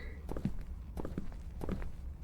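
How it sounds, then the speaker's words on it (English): Footsteps in a Unity horror video game: a handful of soft, evenly spaced steps, fairly close and quiet against a dull low background. "You can literally hear footsteps."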